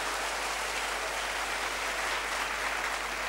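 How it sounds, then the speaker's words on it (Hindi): A crowd at a college Parents Day celebration in Patna applauds to welcome a senior government guest, giving a continuous, even wash of hand clapping with no voices over it. "हम चाहेंगे एक बार जोरदार तालियों के साथ आप"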